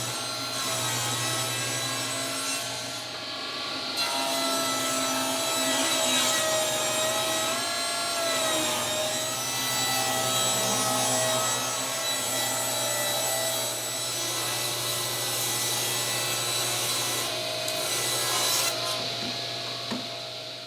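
Wood boards for modern door jambs are sawn to size in a workshop, producing a steady, continuous rasping saw sound, close and moderately loud with no speech.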